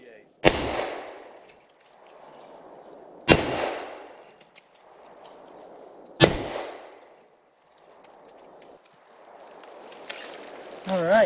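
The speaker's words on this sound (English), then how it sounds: "That is 5 rounds out of the Glock 20 Gen 4 10mm." A Glock 20 Gen 4 10mm pistol's rounds strike an impact-testing target as three sharp, ringing clangs spaced about three seconds apart, each fading into a noisy rumble, with a voice speaking briefly.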